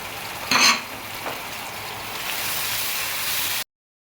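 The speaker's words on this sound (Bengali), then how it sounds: "এখন এগুলো আমি একটু কষাতে দিব অল্প জালে কষায় নিব" Spices for fish kofta sautéing in a pan on low heat, a soft steady sizzle with a brief clink and stirring scrape near the start, then the frying continuing evenly until it cuts off.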